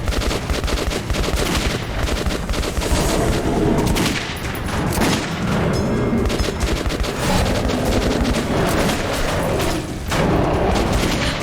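Rapid pistol gunshots ring out in Metro 2033 Redux, a dense, loud volley of cracking reports with booming echoes that continues almost without pause.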